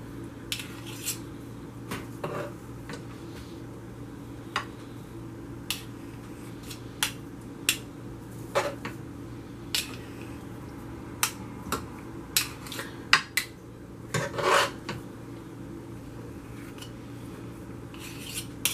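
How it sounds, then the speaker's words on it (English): A spoon scrapes and taps against a baking dish while mashed potatoes are spread over a shepherd's pie, sharp scattered clinks and clicks over a quiet kitchen background. "Now we're going to take our mashed potatoes and we're just going to spoon them onto the top of our"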